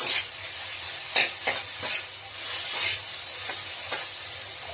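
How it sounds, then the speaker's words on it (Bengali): Poppy seed paste and potatoes stirred in a frying pan for a ridge gourd dish, steady close sizzling with regular loud scraping strokes of a spatula every second or so. "পোস্তটা ভালো করে আলুর সঙ্গে নাড়িয়ে দিতে হবে"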